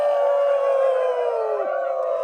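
An audience at a spiritual gathering imitates wolf howls, one long sustained howl held steadily near throughout, its pitch sliding down briefly near the end, with a crowd murmur underneath.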